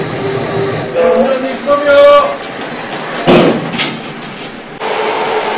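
Rail maintenance vehicle moving on a subway track at night: a loud rumbling roll with a high steady whine and squealing wheel tones, brief clanks, and a sudden shift in the noise near the end.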